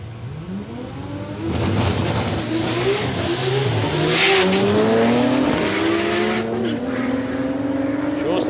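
Nissan Skyline drag cars launch at Palmyra Raceway in Australia, engines revving hard and climbing through the gears with tyre squeal as the wheels spin early on, loud and close, with a commentator talking over it.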